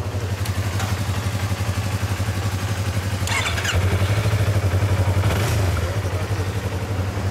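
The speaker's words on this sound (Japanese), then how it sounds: "エンジン音聞かせてもらえる" A motorcycle engine running close by with a throbbing, rattly idle, broken by two brief blips of the throttle that rise and settle back.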